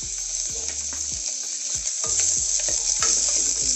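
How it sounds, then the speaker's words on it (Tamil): Chopped onions frying in hot groundnut oil, a bright, loud, steady sizzle with regular scraping stirs of a spatula at close range and no speech. "எண்ணெய் சூடான அப்புறம் நம்ம கட் பண்ணி வச்சுருக்க வெங்காயம் ஒவ்வொன்றா சேர்த்துடலாம்"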